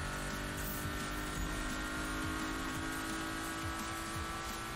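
A McLaren races in Need for Speed 2015, its engine holding a steady high drone with faint tyre hiss. Constant, close and even in level, with no pauses.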